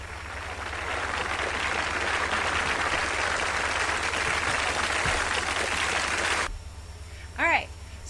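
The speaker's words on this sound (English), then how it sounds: "Y'all give a round of applause to Ms. Houston." Studio audience applauding a guest on a talk show, a dense steady wash of clapping for about six and a half seconds that cuts off abruptly, followed by quiet room tone and a brief faint sound.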